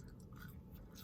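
Close, steady chewing of crunchy fried potato wedges from Wendy's, a continuous run of moist crunching bites over about a second with no talk.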